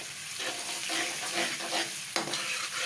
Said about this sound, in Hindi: लहसुन अदरक भी अब ब्राउन हो रहा है।